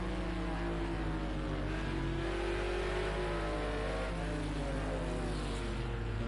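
On-board engine of a GT3 race car in a racing video game at Long Beach, a steady loud drone with rising and falling harmonic pitch lines as the revs shift, continuous throughout without voices.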